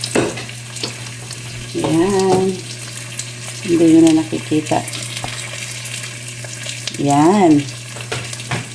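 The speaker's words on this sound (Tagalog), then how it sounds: "tayo nagigisa na ng luya" Ginger sautés in a pan with a steady, close sizzle as it is stirred, and someone speaks in short bursts over the frying, with a low constant hum underneath.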